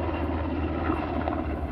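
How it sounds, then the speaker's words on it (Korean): A helicopter drones overhead, a continuous low rotor rumble held at a steady level, heard alone with no talking. "Chopper. Helicopter."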